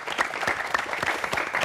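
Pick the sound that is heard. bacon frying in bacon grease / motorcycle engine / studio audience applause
studio audience applause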